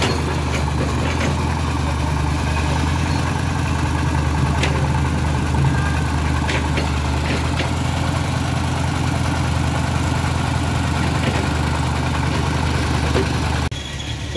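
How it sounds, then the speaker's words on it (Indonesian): Continuous engine rumble from heavy traffic heading toward Medan from Padang Sidimpuan on the road beneath the Batu Jomba rock cliff, a dense steady roar of passing cars and trucks close by with no clear gaps. "Terlihat kendaraan dari arah Padang Sidimpuan menuju arah Medan, ramai sekali bosku ya"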